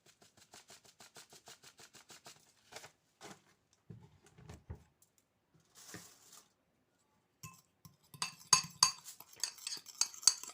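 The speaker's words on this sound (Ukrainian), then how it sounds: "Я розмішую його в тарілочки." A utensil clinks repeatedly against a plate while seasoning is stirred into potato stuffing for a goose: quick light taps in a steady rhythm, a pause, then faster, louder scraping and clinking near the end.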